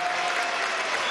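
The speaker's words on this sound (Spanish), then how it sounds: "vale un aplauso de Moraure, de la Trinidad" Steady, loud applause from a large audience at a Venezuelan government event celebrating the CLAP programme, a dense continuous roar of clapping with no gaps, heard up close.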